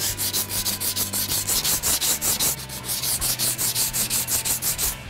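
A car body panel being sanded with 80 grit paper on a long board file during body prep, loud rhythmic back-and-forth rasping strokes at a steady brisk pace, close up with no talking.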